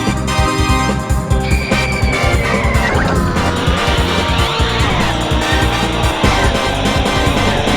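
Kart racers in a Bomberman kart video game buzz along with dense engine drones and tire squeals, joined by pickup effects and busy game music, all loud and continuous without speech.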